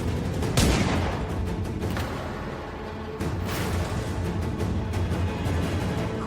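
Gunfire bursts out in a tense confrontation at a doorway, a couple of sharp cracks ringing over dense, rumbling background noise and scuffling commotion.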